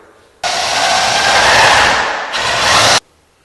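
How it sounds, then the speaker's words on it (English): Power tool driving screws into a garage door strut during a TorqueMaster spring repair, one loud, steady whirring burst of about two seconds with a brief dip before it stops abruptly. "Now we're going to put a couple extra screws in this as well to make sure it holds securely."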